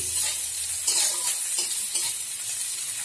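Chopped onions sizzle and fry in a pan for a spinach dish, a steady bright hiss with occasional stirring scrapes, close and continuous with no talking.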